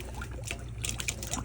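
Water trickles from a tap on a Marine Trader boat as pink antifreeze is flushed through the water system during winterizing, a soft, faint, uneven running flow.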